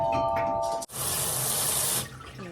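Warm water pours from a tap into a container for sprouting mung beans at home, a steady loud splashing rush lasting over a second before tapering off, with a faint chime tone just before it.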